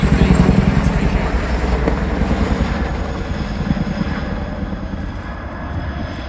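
A Royal Air Force Boeing Chinook HC.6 twin-rotor helicopter makes a loud, close pass at an air display. The deep, throbbing rotor beat and engine roar fade slightly as it moves away.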